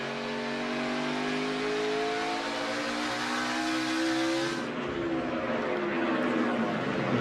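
NASCAR stock cars, including the 48 Ally Chevrolet, roar past at the 2021 Toyota Owners 400, loud engines revving and rising in pitch, then a sharp drop as the pack passes, with a continuous wash of racing noise.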